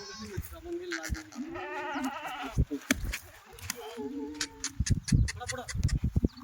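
Kathiawadi goats at a herder's pen in Chalisgaon bleat repeatedly in wavering, nasal calls, several animals overlapping, while people talk nearby.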